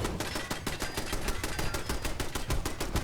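Automated turrets in Fallout 4 fire a rapid, steady stream of sharp gunshot bursts, dense and continuous for the whole stretch, with no voice over them.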